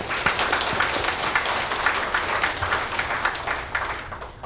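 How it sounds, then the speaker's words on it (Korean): Audience applause at a Korean War memorial ceremony honoring the UN Command and the sixteen allied nations, a steady wash of many hands clapping at moderate distance, sustained throughout without a break. "박수 한번 부탁드립니다."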